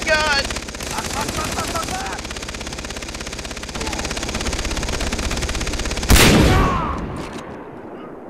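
Sustained rapid machine-gun fire in the video game Far Cry 3, loud and continuous for several seconds, followed by a sharp blast, with a voice briefly talking early on.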